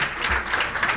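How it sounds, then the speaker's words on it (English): Brief applause from a seminar audience for panelists after a privacy regulation discussion, a short burst of scattered clapping in a room. "please give a round of applause."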